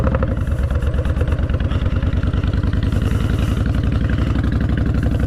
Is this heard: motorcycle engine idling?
yes